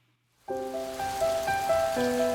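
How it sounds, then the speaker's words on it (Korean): Steady rain hisses beneath sustained musical chords in an animated children's Bible story of Noah's ark and the flood, beginning abruptly after a moment of silence and continuing evenly. "하나님의 말씀대로 비가 내리기 시작했어요"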